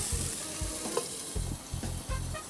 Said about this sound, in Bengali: এবার আমরা চিকেনটাকে এখানে দিয়ে দিচ্ছি